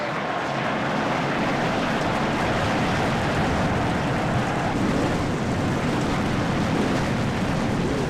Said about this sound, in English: Cars fire up and roll off